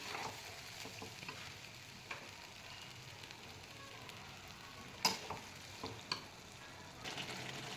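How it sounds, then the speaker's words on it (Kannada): Soya chunks frying in a pan over high flame, a low steady sizzle with a few sharp stirring scrapes and clinks, quiet and close. "ಒಂದು 2 to 3 ಮಿನಿಟ್ಸು ಹೈ ಫ್ಲೇಮ್ ಮೇಲೆ ಫ್ರೈ ಮಾಡ್ಕೊಳ್ಳಿ."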